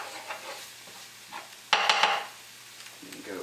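A utensil stirs all-purpose flour into vegetables cooking in a pan, with soft scraping and a gentle sizzle, then a brief louder clatter of utensil against the pan before quieting.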